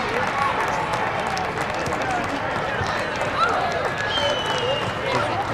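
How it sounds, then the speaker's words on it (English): Crowd noise from spectators at a youth football game, a diffuse, steady murmur of voices and cheering heard from a distance, with someone talking over it. "You can hear the crowd pump up here, cheering for their favorite player"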